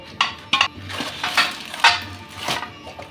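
Fish mixture scraped and poured into a pan of hot oil while cooking fish in banana leaves: a few close clinks of a utensil against metal and soft scraping thuds in a short, irregular run, no talk.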